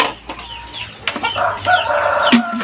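Chirps and soft clucks from one-month-old Aseel chicken chicks, close by and fairly clear, come as short overlapping peeps in a brief, busy burst.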